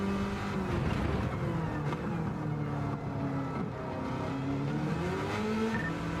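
Muscle car from an American muscle pack in a racing video game, engine droning steadily throughout with tire squeal as the rear traction breaks loose, continuous and close.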